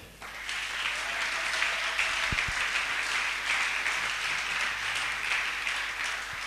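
Church congregation applauding during a worship service, steady dense clapping that holds at an even level from start to finish with no break.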